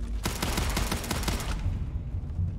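Gunfire from a single-fire weapon in the Starfield video game rings out as a rapid run of loud, punchy shots for about a second and a half, then gives way to a rumbling tail and lingering echo.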